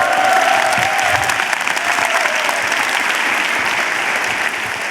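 Steady, dense applause from a large seated audience at a motivational lecture by an orchestra conductor, loud and continuous throughout, easing slightly toward the end with no voices over it.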